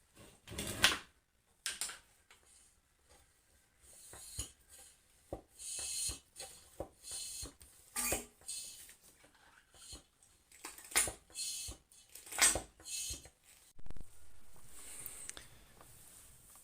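Hand-pumping transmission oil into a Ford 3000 tractor, heard as irregular metallic clunks, knocks and squeaks of the pump strokes at close range, separated by short quiet gaps.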